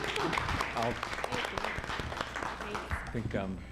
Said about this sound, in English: they ought to get a round of applause for doing a great job